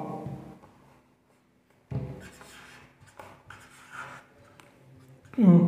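A pen scratches out Urdu letters on paper, with short rubbing strokes between pauses and a louder voice cutting in at the very end.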